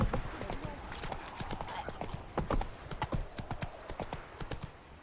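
Hooves of the horse Roach clip-clop in a quick, uneven rhythm within The Witcher 3, close and fairly quiet, with a brief whinny and game voices talking over the steps.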